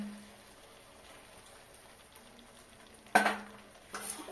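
Fish curry masala of katla with whisked yogurt, coriander, cumin, turmeric, chili, a little sugar and salt being stirred in a pan, with a soft steady sizzle and a louder spoon scrape near the end.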